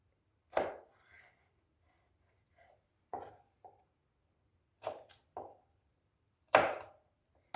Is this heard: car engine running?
no